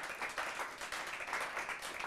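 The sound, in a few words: audience applause for young people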